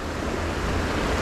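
Ocean waves surge and wash around a small fishing boat out at sea, a steady broadband roar with wind buffeting the microphone throughout.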